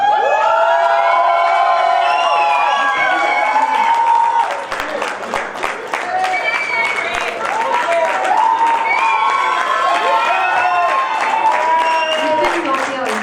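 Loud, dense audience applause with cheering and whoops fills a convocation award ceremony, continuous throughout with a brief dip partway, sharp claps ringing close over the crowd roar.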